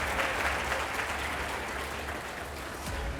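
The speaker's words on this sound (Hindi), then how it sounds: "आप जोरदार तालियों के साथ स्वागत कीजिए प्रोफेसर ओम जी उपाध्याय का" A studio audience gives sustained, loud applause to welcome the historian Professor Om Upadhyay as a guest. The clapping is dense and even throughout the short stretch.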